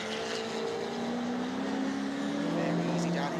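Race cars on the Rockingham circuit drone past with rising engine tones sweeping upward, a steady mid-distance roar under a commentator's voice.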